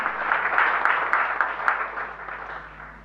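A church congregation applauds together during a sermon, a dense, steady wash of many hands clapping at moderate distance, loudest early and gradually fading over a few seconds, with no talk over it.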